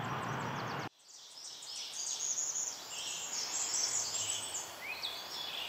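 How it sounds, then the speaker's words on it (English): Warblers sing in a spring woodland in the morning, high thin trills and chirps from several birds at moderate distance over a soft outdoor background hiss, after a brief louder burst of noise at the start. "warblers are singing everywhere"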